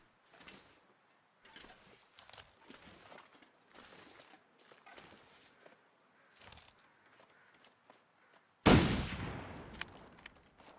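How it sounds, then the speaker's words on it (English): A single loud gunshot in a hunting video game rings out suddenly near the end, cutting through quiet talk and fading in a long echoing tail. "I'm gonna shoot him"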